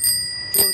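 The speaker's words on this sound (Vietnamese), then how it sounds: "Kêu rất là to luôn." A Japanese-made bell on an unused Kawamura Cycle Jienne 24 bike rings out loudly in one bright, sustained ring that fades, then a second sharp ring follows near the end, close and clear.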